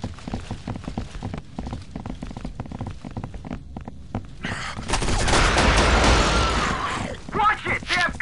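Gunfire in the PC shooter Area 51 (2005): clusters of sharp shots crackle through the first half, then a heavy sustained burst of automatic fire swells loud, with voices calling out near the end.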